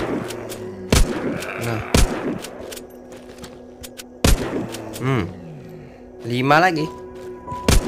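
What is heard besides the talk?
gunshots from the video game The Walking Zombie 2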